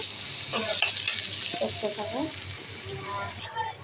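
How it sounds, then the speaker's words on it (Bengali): Shrimp frying with taro leaves in a pan, a continuous close sizzle with stirring scrapes and utensil clatter, a voice briefly audible over the frying. "কচুর শাক দিয়ে চিংড়ি মাছ ভাজি"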